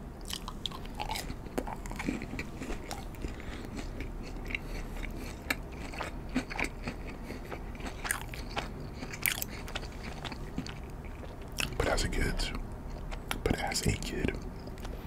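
McDonald's Chicken McNuggets being bitten and chewed up close, with soft crunches and moist chewing in irregular bursts, while a quiet whispered voice talks over them.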